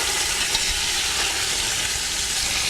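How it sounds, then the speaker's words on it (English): Food sizzles loudly in a pan for a few seconds, a dense, steady crackling hiss heard up close with no talking. "You can hear it sizzling away."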